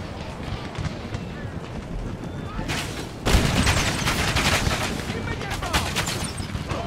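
Artillery batteries firing on a winter battlefield during the 1714 American campaign of Empire: Total War, a dense barrage of booms and crackling shots that grows heavier and louder about halfway through and keeps rumbling to the end.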